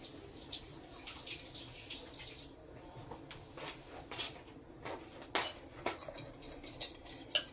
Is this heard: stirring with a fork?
yes